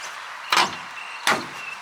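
The door of a Mack R600 truck makes two short heavy clunks less than a second apart, close and fairly faint over a steady background hiss.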